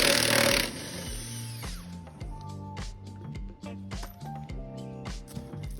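A power tool spins off a 23 millimeter wheel lug nut on a 2022 Ram 1500, with a loud hiss of air at the start followed by repeated rattling impact bursts and whirring, close up.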